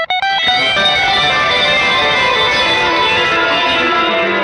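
Distorted electric guitar notes ring out through an effects pedal set to high feedback and high tone, smearing into a dense, sustained wash of layered tones that hangs loud and unbroken.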